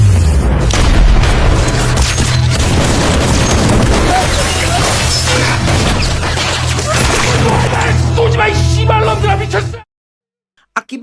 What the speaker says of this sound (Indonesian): Aksi baku tembak pun tak terhindarkan.